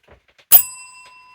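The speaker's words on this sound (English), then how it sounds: "I'll ring the bell." A single bright bicycle bell ding rings out close by, its metallic tone lingering and fading over a second of otherwise quiet air.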